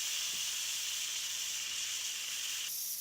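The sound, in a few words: steam hissing from pressure cooker release valve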